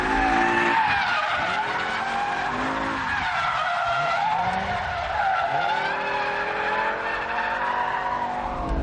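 A BMW M5 with a V10 engine driven hard around a race track, tyres squealing and skidding loudly through the corners over a steady, continuous engine roar.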